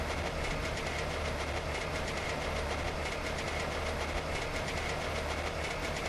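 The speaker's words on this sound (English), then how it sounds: "The air-cooled engines have like a unique noise to it." An air-cooled four-stroke two-cylinder engine runs continuously with a loud, dense, evenly pulsing clatter that holds steady throughout.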